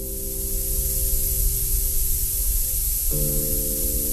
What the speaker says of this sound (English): The sounds you are hearing are the relief valves cycling old air out of the chamber